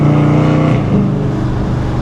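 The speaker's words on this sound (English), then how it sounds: "Those are natural pops, guys." Exhaust pops crackle from a cammed Dodge Challenger R/T as the throttle is released, a loud, close engine burble with brief popping bursts.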